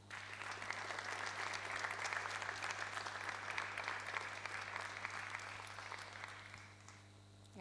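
An audience at a Neapolitan talent showcase gives a sustained round of applause, dense and even for most of its length before tapering off near the end, with a low steady hum underneath.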